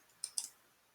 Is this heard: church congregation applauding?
no